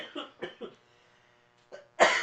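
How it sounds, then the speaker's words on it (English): Several short, harsh coughs from one person burst out in a quick cluster, a pause of near silence, then another louder cough at the end, set in a casual wrestling podcast conversation. "I cough when I laugh"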